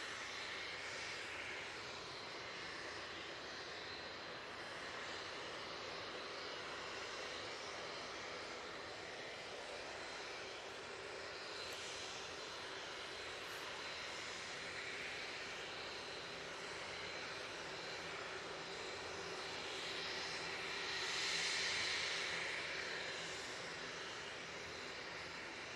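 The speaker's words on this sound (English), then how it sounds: "Got this Embraer Phenom now making its way off to Palma de Mallorca" An Embraer Phenom business jet departs Manchester Airport for Palma de Mallorca, its steady distant engine roar filling the scene and swelling briefly louder near the end, with no voices.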